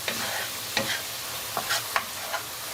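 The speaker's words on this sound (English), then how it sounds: "you're going to stir this until the sugar has dissolved" Stirring gula Jawa palm sugar and coriander into sambal frying in a pan for sambal goreng tempeh, with a steady sizzle broken by a few sharp spoon scrapes against the pan.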